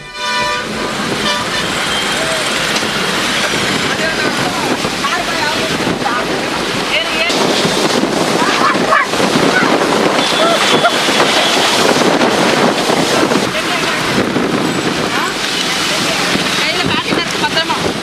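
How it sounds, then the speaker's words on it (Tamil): Strong dust-laden wind sweeping through Chennai's suburbs during a storm, a steady, loud broadband roar that persists throughout, with vehicle horn toots mixed in. "புழுதிக்காற்று சுழன்றடித்தது"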